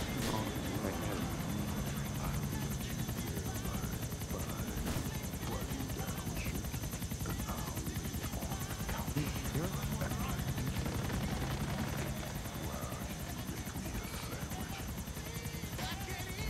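A helicopter in the GTA 4 game roars with a constant, loud rotor and engine drone that stays steady throughout, while players talk over it.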